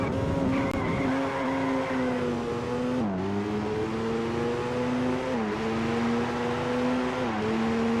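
Race car engine from the PS2 game Alfa Romeo: Racing Italiano, droning steadily through a lap with pitch climbing and dropping at gear shifts, loud and continuous with faint tire noise and no talk.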